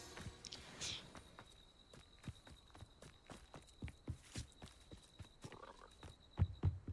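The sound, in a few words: frog croaking in the video game Hogwarts Legacy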